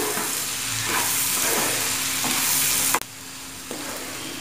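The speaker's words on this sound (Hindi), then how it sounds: "अब मैं डाल रही हूँ ये हरी मिर्ची, इन्हें भी मिक्स कर लेते हैं" Green chilies fry and get stirred in hot oil with turmeric and chili powder, a continuous close sizzle broken by a sharp spoon knock against the pan and a few scraping stirs.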